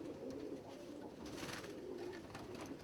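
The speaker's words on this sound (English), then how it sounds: "This is a beautiful yellow laced starling hen" Soft, steady cooing from a yellow laced starling pigeon hen, close by, with a low continuous murmur over about three seconds and no talk.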